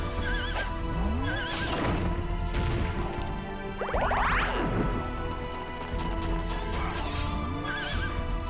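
Game horses in Heroes of Might & Magic 2 whinny loudly over a dense battle backdrop of clattering hooves, thuds and crashes.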